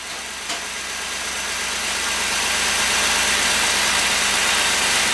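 An LS-swapped car engine runs steadily after being cranked, a continuous broadband engine roar that grows slightly louder and holds close by, with a faint whine suggesting power steering strain.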